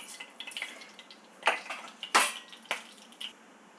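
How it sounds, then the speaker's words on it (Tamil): Mustard seeds and urad dal splutter in hot oil in a pan, making scattered, irregular sharp pops and crackles. A few louder snaps stand out over a low background. "கடுகு நல்லா பொரிஞ்செடுத்து"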